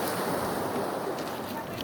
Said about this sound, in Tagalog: Baler, Aurora, facing the Pacific Ocean. This is the Pacific Ocean, guys.